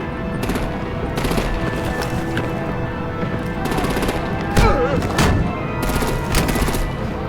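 Rapid bursts of automatic gunfire and heavy artillery crack through a Batman: The Telltale Series game scene, loud and repeated over a rumbling battle background.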